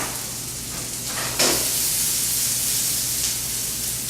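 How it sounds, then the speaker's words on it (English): Garlic sizzles in a hot pan with caramelized onions, a steady close hiss with a sharper burst of spattering partway through, then continuing frying noise. "Sauteed garlic, a little color"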